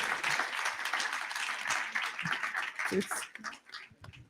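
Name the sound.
audience applause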